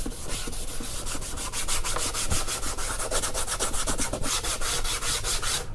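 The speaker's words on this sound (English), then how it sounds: "I'm not gonna bore you with all this sanding" Steady rhythmic sanding of a plastic engine valve cover, close and loud, with repeated back-and-forth abrasive strokes.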